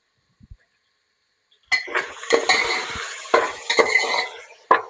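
Potatoes and vegetables sautéed in a pan for aloo matar pulao, heard as loud clinks and scrapes of a spoon against the pan with bursts of stirring, after a quiet opening second and a half.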